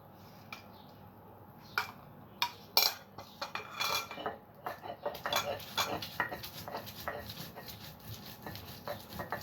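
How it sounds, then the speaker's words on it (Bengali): Roasted pointed gourd is ground into a paste on a grinding stone: close, irregular scraping and knocking strokes that start sparse and grow quicker and denser toward the end. "আমি এখন এই যে এটাকে এখন বেটে নিচ্ছি সুন্দর করে"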